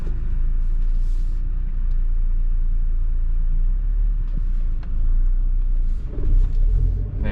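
A 2021 Mazda MX-5 Miata with a manual gearbox pulling away from a stop, its engine giving a low steady rumble from inside the cabin, rising slightly toward the end.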